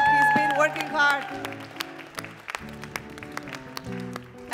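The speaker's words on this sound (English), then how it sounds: "let's all give a big clap for them" Audience at a Christmas play clapping, a scattered burst of applause that thins out after a speaker's voice at the start.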